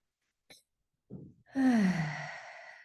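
A deep breath taken during a guided breathing exercise: a short sniff, then a longer intake, followed by a loud, voiced sigh-like exhale that trails off, close to the microphone.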